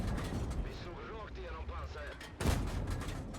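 Tank cannon fires once in a World War II tank video game, a sharp loud broadband blast near the end following a stretch of low engine rumble and muffled battlefield noise.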